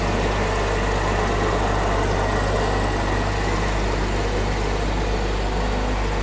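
A Jaguar XJ12 V12 engine idles in a workshop with a steady, loud, low droning hum that holds constant throughout, close by and without talk.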